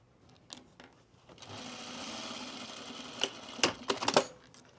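A sewing machine runs a steady stitching pass along the casing of pajama bottoms, then stutters through several short, sharp bursts near the end, close and alone with no voices.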